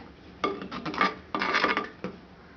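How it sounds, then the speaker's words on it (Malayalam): Fish pieces dropped into bubbling curry paste in a pot for a simple fish curry, giving a few close clattering, scraping bursts with short pauses between them and no talking. "ഇനി നമുക്ക് ഇതിലേക്ക് മീൻ ഇട്ട് കൊടുക്കാം"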